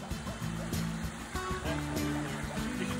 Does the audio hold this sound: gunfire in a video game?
no